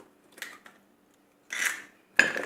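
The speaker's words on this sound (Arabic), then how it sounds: "نضيف البيضه الثالثه ونخلط" Cake batter is mixed by hand in a bowl after an egg goes in, heard as three brief scraping, clinking strokes of utensil against dish separated by silent gaps, close and fairly quiet.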